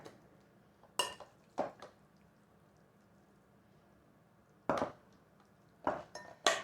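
A spoon scoops biscuit stuffing into a bundt pan, giving a few soft scraping clinks and thuds spaced apart in an otherwise quiet kitchen, close and fairly faint.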